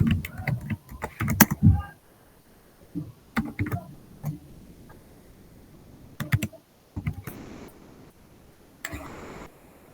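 Bursts of fast clicking on a computer keyboard, clustered keystroke runs separated by quiet gaps, close and crisp with no talking.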